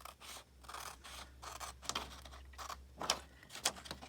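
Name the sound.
scissors fussy cutting paper houses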